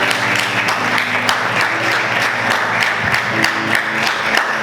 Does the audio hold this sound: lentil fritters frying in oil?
no